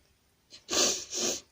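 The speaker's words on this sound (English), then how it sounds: "I think I'm going to sneeze." A single close sneeze: a short sharp inhale followed by two bursts of explosive breath, with no talking around it.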